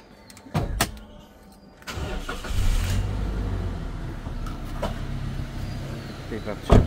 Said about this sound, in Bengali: আসুন আমরা একটু ইঞ্জিনের সাউন্ডটা দেখি।